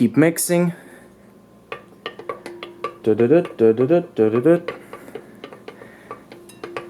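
A utensil stirs a thick, thickening mixture in a bowl, giving repeated scraping and clinking knocks in bursts while a person talks over much of it.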